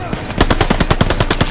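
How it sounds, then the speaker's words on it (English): Suppressive machine gun fire in Call of Duty: Vanguard at an assault on a half-track: a rapid, steady stream of loud, close gunshots hammering evenly for the whole stretch, with no talk over it. "Suppressive fire, now!"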